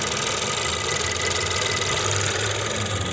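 The engine of a 2016 Ford Fusion runs steadily during fuel injection cleaning with the fuel pump disconnected, giving a close, constant mechanical drone with a fine rapid ticking throughout.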